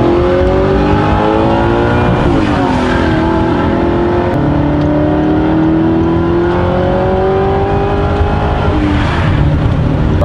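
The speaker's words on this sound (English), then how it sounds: "We're going for a ride in the R8" A supercharged Audi R8 LMS race car accelerates hard, its loud engine note climbing and dipping through gear changes for the whole stretch, close and continuous, with no talking.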